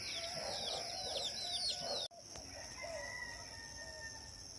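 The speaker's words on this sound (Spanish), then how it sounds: "Los gallos siguen cantando." Roosters crow at dawn in the countryside: a loud, close run of repeated crows, a sudden break, then fainter, more distant crowing over quiet morning ambience.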